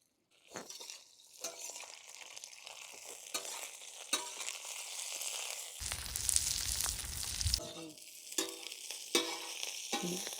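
Green chillies, garlic and ginger roast in a little oil on a griddle. A steady close sizzle carries on throughout, broken by scraping stirs and a louder burst of frying near the middle.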